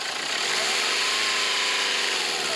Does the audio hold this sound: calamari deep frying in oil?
no